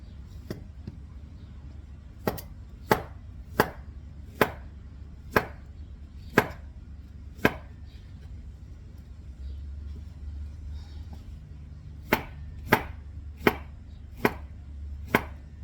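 Sharp knife chops on a cutting board as fruit is cut for bread pudding, about a dozen crisp close strikes in uneven bursts over a low steady background rumble.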